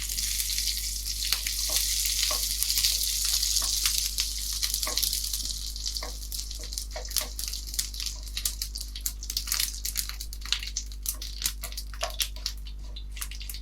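Dried red chillies and curry leaves fry in hot oil for a Kerala-style chicken thoran, a bright hissing sizzle that settles into scattered crackles and pops, with a constant low hum underneath.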